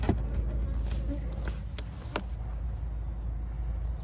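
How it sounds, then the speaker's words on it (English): Honeybees buzz around an open beehive in a soft, steady drone close by, with a few faint taps and handling sounds mixed in. "Listen to them buzzing around like they knew I took the veil off"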